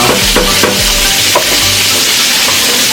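Ingredients for southern black-eyed peas sauté in a pan on the back burner of a small stove: a loud, steady sizzle with scraping stirs and a few clunks, with no one talking.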